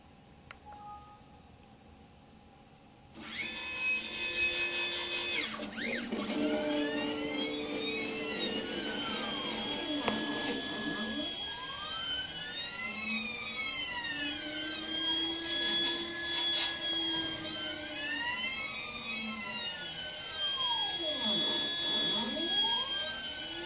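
A Dyna 2400 CNC mill runs a test program, cutting a 2.5-inch diameter circle a quarter inch deep in two passes. After a quiet opening, a loud, steady whine begins, with tones sweeping up and down continuously throughout.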